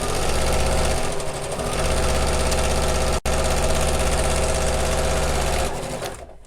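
A sewing machine runs continuously while stitching a bag, a loud, close, rapid mechanical chatter with one brief stop partway through and a slowdown near the end.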